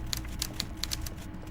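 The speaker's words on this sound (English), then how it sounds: "enjoy that typewriter sound" Typewriter sound effect from the video game Disco Elysium: a quick, uneven run of crisp key clacks, about eight strikes in a second and a half, over a steady low background hum.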